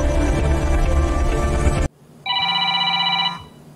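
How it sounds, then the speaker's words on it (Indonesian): A mobile phone rings with an incoming call, giving one sustained electronic tone of about a second after a loud stretch of other sound cuts off abruptly, with no talk over it. "Di keesokan pagi, Adam mendapatkan panggilan dari sahabatnya Kian"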